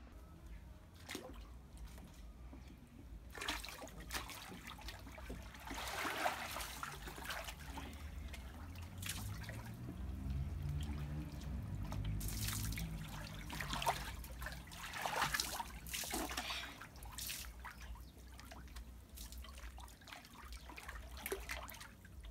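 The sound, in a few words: water in a swimming pool while getting in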